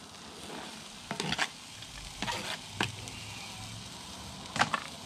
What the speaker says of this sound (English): Stirring our onion till it goes nice and see-through